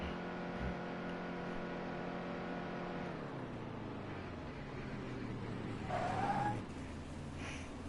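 The number 18 stock car in a racing game slows into pit road, its engine droning then winding down in pitch, followed by a brief squeal as it stops.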